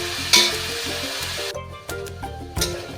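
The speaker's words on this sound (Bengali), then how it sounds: "আমি এখানে আলু আর গাজরটাকে একটু ভেজে নিচ্ছি" Potato and carrot pieces fry with salt and turmeric, a strong, close sizzle punctuated by several stirring scrapes and bursts of spitting oil.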